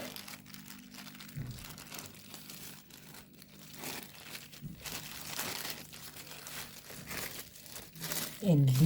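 Pie dough wrapped in crinkly plastic, a steady close rustling and crackling of the film running throughout, with a few soft thumps and a louder handling noise at the end.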